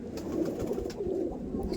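Blue-eyed pigeon cooing at a pigeon dealer's loft, a steady low murmur of coos running through the whole stretch at moderate, close level without any talk.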